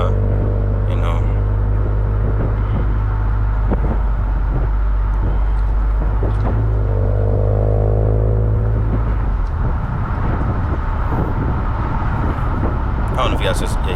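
Steady low engine drone and road rumble inside the cabin of a Ford Fusion Sport MRT V2 cruising slowly at about 25, with a brief rise in pitch midway as the engine note shifts, fairly loud and continuous.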